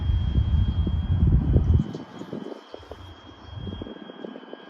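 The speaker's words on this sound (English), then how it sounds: "That's the powerful engines you hear." Powerful 2,500-horsepower towboat engines push an Ingram barge upriver, giving a deep, steady, rumbling drone with louder low-end surges, heard at a moderate distance by a riverside.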